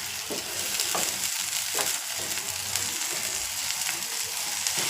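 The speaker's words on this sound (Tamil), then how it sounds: "மூளையோடு அது அப்படியே மிக்ஸ் ஆகி திரண்டு வரும்." Brain and egg stir-fry cooking in a pan, with a continuous crackling sizzle and repeated spatula scrapes and taps at close range.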